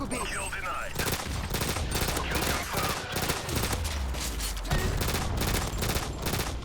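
Machine pistol fire in a Modern Warfare shooter game: dense, rapid bursts of automatic gunfire that run almost without a break, loud and close, with other game sounds mixed underneath.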